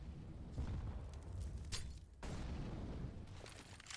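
A grenade goes off in a Counter-Strike esports match with a deep, rumbling boom. More muffled thuds and bursts follow in the game's ambience, and the blasts come out moderately loud with no voices.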